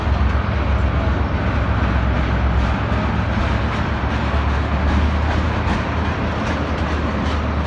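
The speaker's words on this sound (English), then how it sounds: "Looks like an oil train." Freight oil train hauled by SD60M locomotives passing close by, a loud continuous rumble of rolling cars with low engine drone and steady rail clatter throughout.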